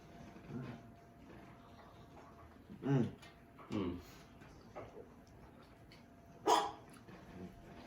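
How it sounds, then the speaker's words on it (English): Henry the dog gives a few scattered, fairly distant barks, spaced seconds apart with one sharper bark near the end, over quiet room tone. "That's Henry the dog, ladies and gentlemen."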